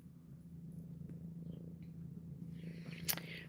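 A pet cat purring close by as a low, steady, quiet rumble, with a brief faint high sound near the end.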